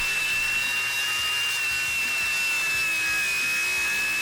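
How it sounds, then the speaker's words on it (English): A RIDGID Octane brushless 4-1/2 inch angle grinder cuts through a steel plate, a loud, steady, high-pitched whine with a constant tone and no pauses. "Just letting the weight of the grinder do the work and it goes right through."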